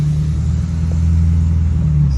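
Ford F-350 pickup engine heard from inside while driving, a steady loud low rumble with a deep droning hum that holds even throughout, no speech over it.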